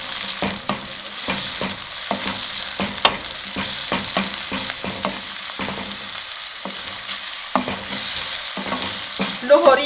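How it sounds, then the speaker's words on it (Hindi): Chopped onions frying in hot cooking oil for Lahori chicken chana crackle in a close sizzle broken by repeated rhythmic stirring scrapes, with no talking. "प्याजों को ब्राउन होने तक पकाएंगे"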